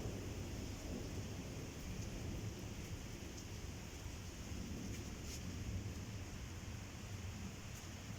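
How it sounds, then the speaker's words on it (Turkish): Heavy spring rain pours down outdoors in Antalya in a steady, even hiss and patter that fills the whole stretch without breaks. "Yağmur sesinden sesim az çıkabilir arkadaşlar."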